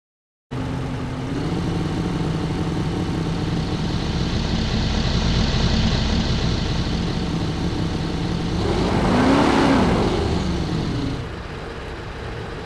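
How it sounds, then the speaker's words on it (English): Synthesized Ford F-150 engine and Land Rover Defender exhaust car sound effects, a steady engine drone that swells into a rising, revving pass near the end before dropping back to a lower hum. "I'll try a Ford F-150 engine and maybe a Land Rover Defender exhaust"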